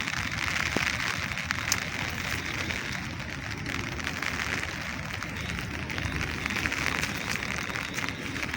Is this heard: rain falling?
yes